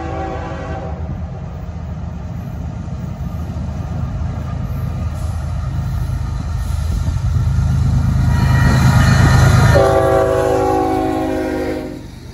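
A Norfolk Southern freight, NS309, rumbles past a siding where another train waits, its rail noise swelling as it nears and a loud sustained horn blast sounding close by before the passing clatter fades.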